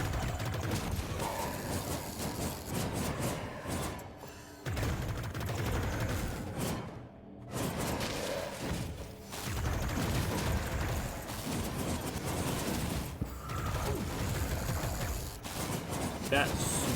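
Rapid automatic gunfire from the first-person shooter Ziggurat 2, a dense, continuous rattle of shots with explosive bursts, running almost the whole way with brief pauses, mixed with game effects and some talk.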